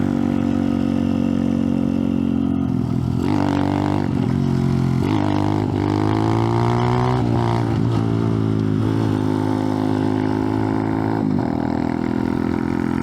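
Off-road motorcycle doing wheelies on a dirt road: loud close engine revving, rising and falling in pitch with repeated throttle blips and steady droning between them, some faint voice underneath.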